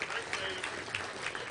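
Audience at a Little Rock Touchdown Club meeting applauding for a birthday, dense clapping filling the room, steady and fairly loud, with a voice speaking over it.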